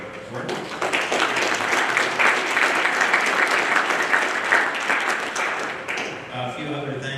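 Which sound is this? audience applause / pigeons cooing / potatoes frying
audience applause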